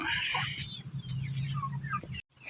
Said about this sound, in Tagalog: ito ang aking mga manok